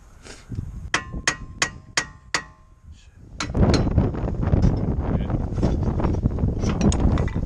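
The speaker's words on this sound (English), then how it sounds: "So I'm gonna use a regular hammer" Five or six sharp metallic strikes from a regular hammer ring out in a steady rhythm, knocking off an old rear wheel hub on a 2011 Nissan Altima, followed by a pause and then loud, rough rumbling noise.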